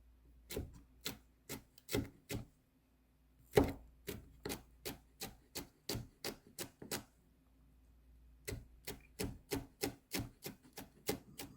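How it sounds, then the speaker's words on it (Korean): A knife finely slices a deseeded pepper on a cutting board in quick, crisp, evenly spaced taps. The strikes come in two runs separated by a short pause, close and clear in an otherwise quiet room. "씨를 털어내고 썰어요. 곱게."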